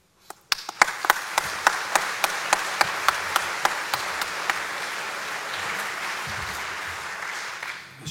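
An audience at a general assembly of mayors in the Var breaks into sustained applause, starting with distinct rhythmic unison claps that build into a loud, dense ovation filling the whole span.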